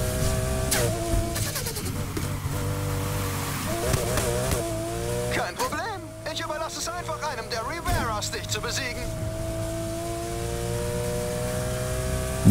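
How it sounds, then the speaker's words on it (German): A turbocharged car in Need for Speed Heat hums continuously at cruising speed, its engine tone swelling and dipping with a few sharp whooshing shifts. Someone talks over the engine for much of the stretch. "Turbogeräusche sind schon echt geil von dem Wagen."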